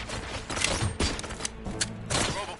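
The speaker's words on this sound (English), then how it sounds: "Gunshots? What's going on?" Gunfire in RoboCop Rogue City: clattering bursts of shots and mechanical rattling, loud and close, coming in clusters with short gaps between, no voices heard.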